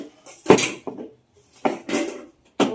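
Steel plates and dishes clatter as cooked rice is served out to each person's plate at a home meal, in three separate bursts of clinking and scraping with short pauses between, fairly close.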